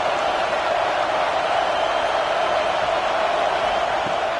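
A packed football stadium crowd at an Iowa versus Nebraska college game gives a loud, steady roar that holds without a break, with no clear cheers or claps standing out.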